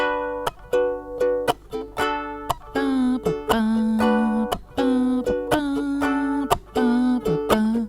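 A ukulele is strummed in a lively syncopated pattern, with sharp percussive chucks between ringing chords, played alone and close.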